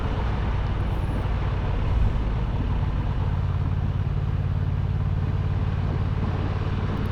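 A Honda Transalp XL750 motorcycle cruising on a greasy road, its engine a steady, continuous drone blended with broadband wind rush, constant in loudness throughout.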